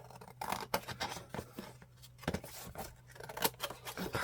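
Scissors snip through old paper from an 1870s scrapbook in a quiet room, with soft, close, irregular cuts and brief crinkles between them.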